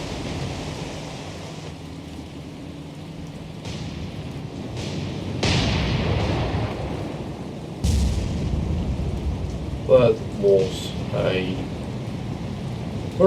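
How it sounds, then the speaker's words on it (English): Deep, rumbling ship explosions boom in a naval war video game during a campaign battle, several heavy blasts sounding over a steady noisy roar. "very nice explosion."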